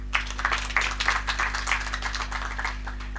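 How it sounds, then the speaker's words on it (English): An audience claps at a university graduation ceremony, steady moderate applause from many hands with a constant electrical hum underneath. "We need to give yourselves a round of applause."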